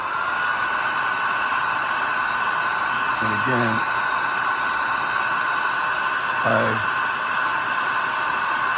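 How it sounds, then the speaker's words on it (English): A hair dryer blows a steady, loud rushing hiss to dry a watercolour wash on a painted wren. The airflow runs unbroken throughout, with a couple of short spoken phrases over it. "get my dryer"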